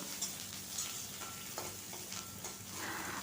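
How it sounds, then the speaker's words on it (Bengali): Chopped onion and black cumin frying in hot oil in a home kitchen, a steady soft sizzle with faint stirring clicks throughout, fairly quiet and without talk. "এরপর কালো জিরে দিয়ে দিচ্ছি তারপর পেঁয়াজ কুচি দিয়ে দিলাম"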